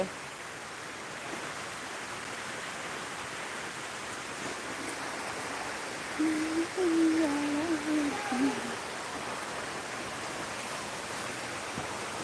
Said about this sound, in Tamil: பயங்கரமாக மழை பெய்யுது